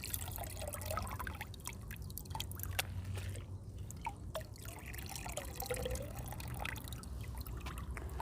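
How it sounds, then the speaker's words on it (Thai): Golden pothos cuttings are dipped into a rooting hormone solution, giving soft continuous liquid swishing and faint drips close by, with no speech. "จุ่มให้เขาชุ่ม แล้วก็ให้ใบเขาสัมผัสกับน้ำยาไปด้วยค่ะ"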